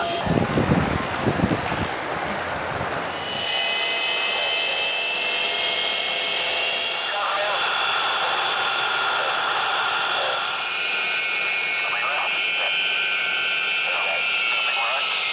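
Avro Vulcan XM655 bomber jet engine starting up: after a few muffled knocks a loud whine builds and rises, then settles into a sustained, high-pitched roar heard nearby.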